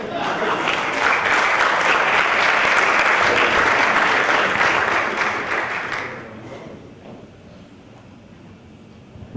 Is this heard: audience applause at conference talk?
yes